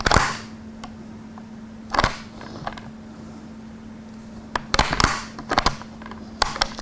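An Argentine Mauser carbine with a turn-down bolt being worked by hand, giving a series of sharp metallic clacks and clicks in uneven clusters, close and loud, with quiet gaps between and no talking.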